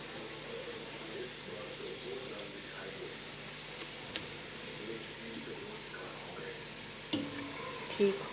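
Onions browning in a large pot for Punjabi daigi biryani give a faint, steady sizzle with occasional stirring clinks and scrapes, the last one louder near the end.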